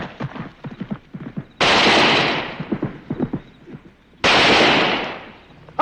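Gunfire in a western shootout sounds as two loud, sustained bursts of shots, the first longer and slowly fading, the second shorter and abrupt, with urgent voices talking before and between them.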